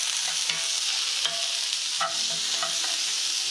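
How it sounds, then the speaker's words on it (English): Vegetables sautéing in a pan give a steady, close sizzle throughout, with a few soft stirring scrapes and taps of a utensil. "So I saute in these a little bit."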